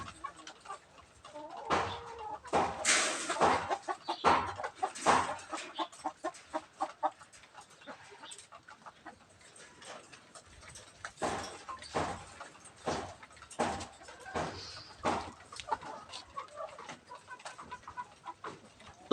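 Rhode Island Red chickens in a large cage cluck and squawk in scattered bursts, close and moderately loud, with quiet pauses between the flurries.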